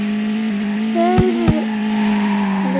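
Car driven along a road and turned at a junction, a steady engine hum with rising and falling pitch as it steers, two short sharp knocks midway; loud and close, no one speaking.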